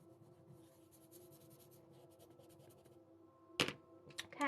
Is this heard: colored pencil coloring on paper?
yes